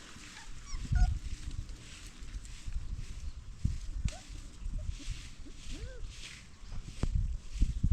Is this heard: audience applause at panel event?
no